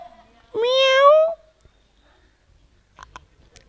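A human voice imitates a cat's meow in one drawn-out, rising-then-falling mew, close and loud, during a folk performance; a few faint clicks and brief noises follow after a quiet gap.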